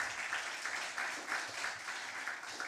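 An audience at an impromptu speaking competition gives a round of applause, steady dense clapping that swells slightly in pulses and fills the short stretch on its own.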